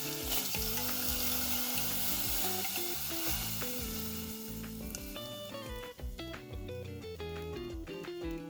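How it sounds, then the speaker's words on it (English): A pot of Rao's vegetable minestrone soup bubbles and sizzles steadily up close, with a continuous crackling boil under background music. "We got the nice boil going"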